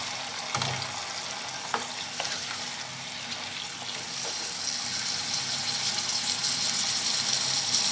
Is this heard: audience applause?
no